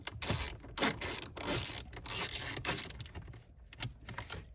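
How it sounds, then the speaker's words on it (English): A ratchet loosens four 10 mm bolts while a head unit is removed from a Toyota 4Runner, giving close, quick bursts of clicking that repeat with brief pauses between strokes. "you're going to take the 10 mil and you're going to loosen these 4 bolts"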